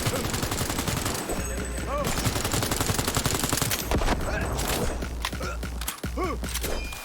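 Rapid gunfire in the video game Cyberpunk 2077, dense bursts of shots repeating loudly across the whole span with brief pauses and thumping impacts in between.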